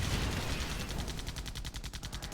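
Artillery gunfire in the Airmech Arena video game, rapid repeated bursts of shots in a dense, steady stream over a rumbling battle din.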